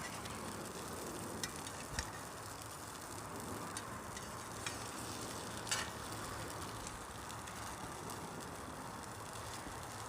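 Scrambled eggs sizzle in bacon grease on a solo gasifying wood stove, a steady close crackle with a few faint scrapes and clicks of stirring, and no talk.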